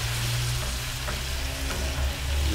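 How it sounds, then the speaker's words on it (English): About a cup of water hits a hot pan of sloppy joe meat to deglaze it, bursting into a loud, close, hissing sizzle that holds for a couple of seconds. "pour about a cup of water in here just to deglaze this pan"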